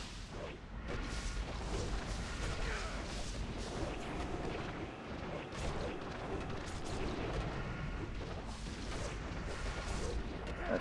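Cannon fire from the VX-001 mechanical boss in a World of Warcraft Ulduar raid fight, a dense continuous barrage of booming blasts and explosions filling the whole stretch at steady loudness, with no speech.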